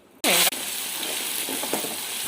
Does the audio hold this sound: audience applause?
no